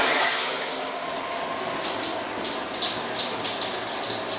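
Shower water running steadily in a home bathroom, a constant close hiss and patter with slight pulsing splashes throughout.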